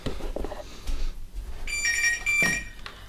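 Indoors, a telephone rings in a short, bright electronic burst midway through, over low room noise and faint rustling, with no one speaking.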